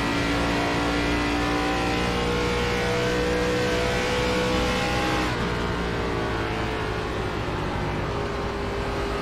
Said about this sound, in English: You hear that partial throttle application?